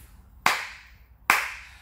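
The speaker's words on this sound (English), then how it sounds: "Let's clap our hands." Two sharp, distinct hand claps spaced about a second apart, close and clean, each with a short decaying ring in a quiet room.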